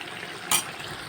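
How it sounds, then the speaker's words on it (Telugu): Chicken pieces frying in oil in a pan for a chicken gravy, with a continuous soft sizzle and a single short, sharp clatter midway. "ఇక్కడ దీన్ని ఆయిల్లో బాగా ఫ్రై అయిపోయింది."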